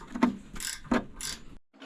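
Ratchet fitted with a 3/8 drive deep well socket clicking on a farm, two quick close mechanical ratcheting bursts followed by a brief silence.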